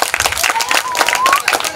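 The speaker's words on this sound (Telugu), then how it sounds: "కొంచెం గట్టిగా చప్పట్లు" Audience applause at a Karthika Vana Samaradhana gathering, a short burst of dense clapping from a crowd, mixed with a voice.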